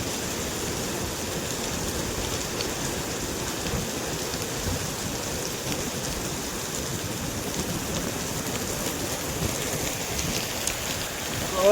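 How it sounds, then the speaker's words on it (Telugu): Heavy rain pours steadily in Kolkata during truck loading and unloading of papdi beans, a dense, even hiss with a close patter on surfaces, continuous throughout. "వర్షం బాగా వస్తుంది"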